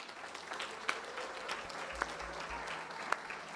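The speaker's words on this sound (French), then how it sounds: "j'aimerais que vous applaudissiez bien fort nos choristes" An audience claps for the choir singers and musicians at a Christmas sweater party, steady dense applause throughout with a few sharper individual claps standing out.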